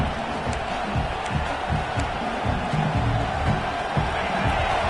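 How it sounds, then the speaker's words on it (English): A football stadium crowd at an Iowa State versus Iowa game roars to help their defense, a broad sustained rumble of cheering voices with intermittent thumps, loud and continuous throughout. "Listen to this crowd just shaking the girders of this place trying to help their defense."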